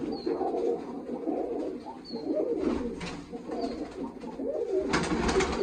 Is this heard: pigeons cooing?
yes